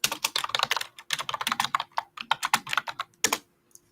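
Rapid close-up keyboard typing, bursts of crisp key clacks in quick irregular runs with short pauses, tapering to a last few taps.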